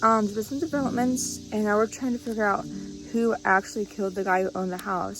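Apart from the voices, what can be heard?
birds chirping in the background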